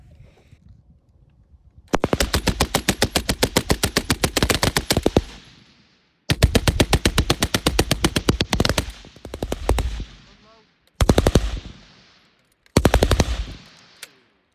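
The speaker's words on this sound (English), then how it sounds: "Vickers, you will fire 1 25 round burst." A Vickers machine gun fires long, rapid bursts at a steady 550 rounds per minute, each rattling string of shots loud and close with echoing tails, followed by two shorter bursts.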